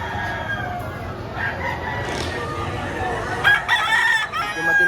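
Chickens and roosters at a crowded, rain-soaked early-morning market in Batangas selling cheap fowl, with repeated crowing and clucking over steady crowd murmur and background voices.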